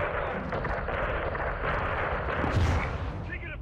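Gunfire and explosions from the Call of Duty MW2 campaign, a dense and continuous barrage of shots and blasts with no break, over background battle noise.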